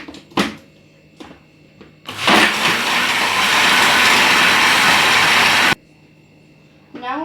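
A kitchen grinder whirs loudly and steadily for several seconds, blending lemon soda with ice, preceded by a few sharp knocks and followed by quiet.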